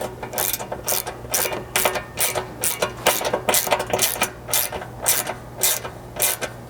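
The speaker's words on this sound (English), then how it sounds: "you'll just need a 5/32 hex to drive the bolt head side here and a 7/16 wrench to hold the nut" A ratcheting tool clicks in a steady, evenly spaced series while a hex key and wrench tighten a bolt on an engine cover, the close metallic clicks recurring about twice per second.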